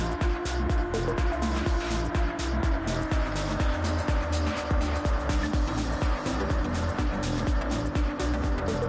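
Gr.3 race cars at Daytona International Speedway in Gran Turismo 7, engines droning loud and continuous as several cars run close together, with pulsing pass-by surges and no talk.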